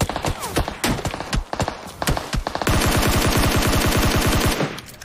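Gunfire in PUBG Mobile, scattered sharp single shots followed by a long rapid automatic burst of evenly spaced cracks, loud and close.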